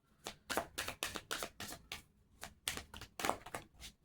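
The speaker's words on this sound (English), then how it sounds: "I want you guys to be able to see the shuffle." Tarot cards are shuffled in a quick, uneven series of crisp riffling bursts, close and fairly soft, with short pauses between strokes and no talking over them.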